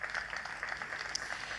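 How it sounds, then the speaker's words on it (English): An audience at an investment conference gives a short round of applause, heard as a brief, fairly faint patter of clapping. "Round of applause for the government."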